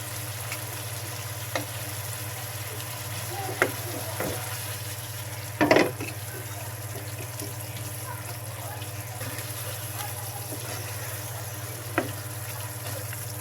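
Prawns cooking in a pan for prawn biryani give a steady low sizzle with a few soft stirring clinks, a constant background hum underneath and no talk.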